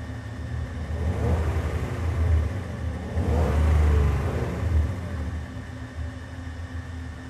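A safari game-drive vehicle's engine revs up and holds, a loud close mid-pitched rumble that swells twice before easing back to idle, with no talking.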